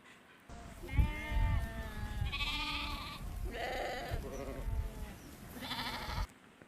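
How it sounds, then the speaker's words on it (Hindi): Sheep bleating several times in succession, loud and close, wavering calls with short gaps, with no talk over them. "शीप को हिंदी में भेड़ कहते हैं।"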